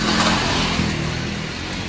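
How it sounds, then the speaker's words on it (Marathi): Dense, steady rain hisses loudly and evenly across the whole clip, a continuous wash of noise with no voices. "पाऊस पडायला लागला"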